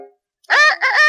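A storybook rooster named Reddy crows after a short pause, a single loud, harmonically rich call with a brief break in the middle, close by and alone.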